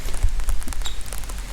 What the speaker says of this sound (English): and then suddenly it starts to rain,